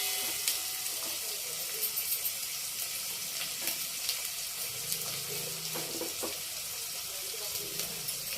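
Onions and tomatoes frying in a pan: a steady, moderately loud sizzle with soft bubbling and intermittent stirring scrapes, continuous throughout.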